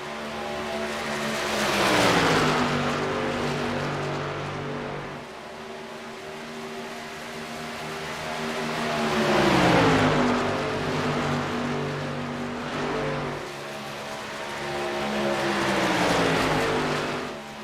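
Race trucks in the SERL truck series roar past at Las Vegas, engines swelling and fading in repeated pass-bys with shifting pitch, loud and continuous.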